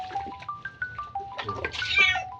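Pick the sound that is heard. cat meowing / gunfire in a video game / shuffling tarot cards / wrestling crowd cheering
cat meowing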